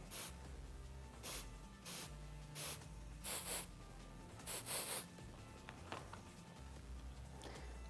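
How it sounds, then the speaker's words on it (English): Alterna Another Day Dry Shampoo sprayed onto hair as a texture spray: a series of short, sharp aerosol bursts, some single and some doubled, with quiet pauses between them. "use it as a texture spray"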